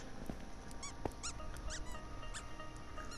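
A person makes a run of high, chirpy mouth squeaks to call a pet, imitating an animal's squeak, heard over a constant hissing, busy backdrop of Minecraft Dungeons game sound.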